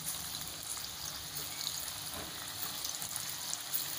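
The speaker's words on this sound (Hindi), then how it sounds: "अब कढ़ाई में तेल हमने डाल दिया है, अब उसमें हम अपने कोफ्ते डाल देंगे फ्राई होने के लिए।" Raw banana koftas frying in mustard oil in a kadhai, giving a steady, close, even sizzle that runs on without a break.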